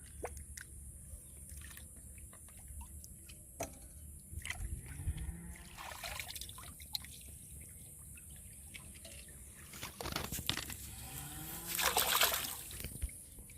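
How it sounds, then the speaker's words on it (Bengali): Hog plums washed by hand in a village pond at midday, water splashing, dripping and trickling in soft intermittent bursts with a few louder splashes toward the end, no talking. "তো সুন্দর করে ধুয়ে নেব প্রত্যেকটাই"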